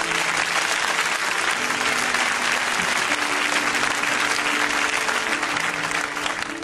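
A church congregation applauds loudly and continuously, a dense steady roar of many hands clapping with a few voices faintly audible beneath it.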